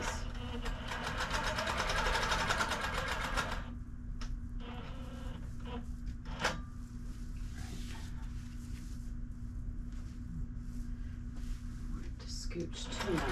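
A domestic or long-arm sewing machine tacks down an insulated tote bag, running in a brief rapid burst of stitching before dropping to quieter handling sounds and a low hum.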